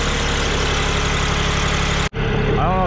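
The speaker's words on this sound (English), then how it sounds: "definitely working the wee tractor a wee bit" A Cub Cadet 1512 small tractor engine runs loudly and steadily while logging, a close, even drone that cuts out abruptly near the end, after which a quieter engine tone resumes.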